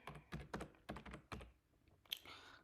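Computer keyboard typing in short bursts of quick clacking keystrokes, close and fairly quiet, with a couple of pauses and a brief sharper tap near the end.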